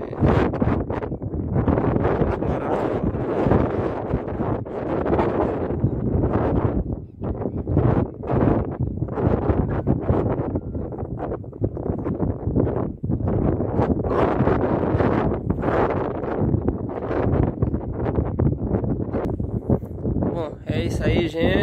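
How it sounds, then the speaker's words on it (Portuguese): Strong wind on a waterfall cliff in the Serra Talhada hills gusts and buffets the microphone in rough, uneven bursts while a person talks almost without pause. "Tá ventando bastante aqui."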